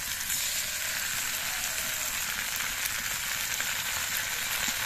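Vegetables frying with turmeric powder and ground spice paste in a pan, producing a dense, loud, unbroken sizzle with faint stirring underneath, heard up close and without talk.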